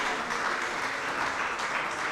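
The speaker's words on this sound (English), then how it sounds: "A better round of applause for Daramola, please." An audience at a journalism and media accessibility event applauds with steady, dense clapping that carries evenly from start to finish.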